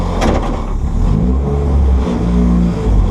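A car on the Mettet race circuit revs loudly as it pulls away in first gear, a close, continuous engine roar that rises and falls across a few seconds.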